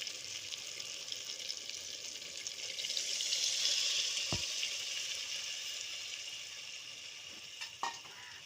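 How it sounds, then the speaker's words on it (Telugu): Tamarind juice poured into a pan of frying stuffed eggplant curry, giving a steady hiss of sizzling that swells in the middle, with a sharp knock near the centre and a couple of soft clinks toward the end. "నేనైతే చింతపండు పులుసుని యాడ్ చేస్తున్నాను"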